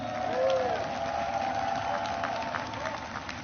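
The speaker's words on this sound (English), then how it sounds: "Give her a round of applause." An audience at a presidential speech in Poland applauds and cheers, a continuous roar of clapping and crowd noise that peaks early and stays strong, reverberating through a large open venue.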